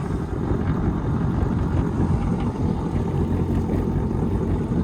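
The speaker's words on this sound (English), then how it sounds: "I'm just gonna start this and just kind of idle out." A WaveRunner personal watercraft idling among lily pads, giving a steady, loud, low engine rumble that holds constant throughout without any changes in revs.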